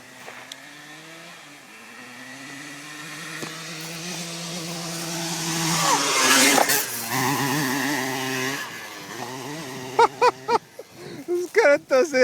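Dirt bikes on a forest trail race up and pass close to the camera, engines rising to a loud, buzzing peak and then revving in sharp bursts as they move off, with voices talking nearby.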